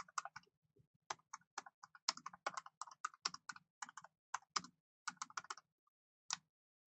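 Keyboard typing at close range, with bursts of crisp key clicks in quick irregular runs and brief pauses between words, while a post is written on a computer; no one talks.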